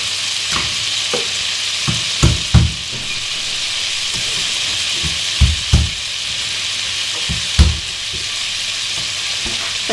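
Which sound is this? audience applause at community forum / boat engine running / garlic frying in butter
garlic frying in butter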